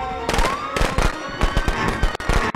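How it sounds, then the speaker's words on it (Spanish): Firecrackers pop in rapid irregular bursts during gameplay of Friday the 13th: The Game, dense crackling snaps over loud game sound. "Y petardos."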